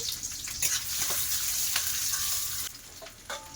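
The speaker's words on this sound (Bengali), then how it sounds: "কড়াইতে তেল দিয়ে দিচ্ছি" Chopped onion sizzles and crackles steadily in hot oil, with occasional sharp pops and clatters of stirring; no talking.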